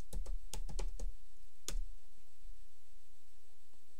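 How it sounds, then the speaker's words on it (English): Computer keyboard typing a search query into a web browser, a quick run of about seven close key clicks in the first two seconds, then quiet room tone. "Let me just bring up Chrome and type how do I plot"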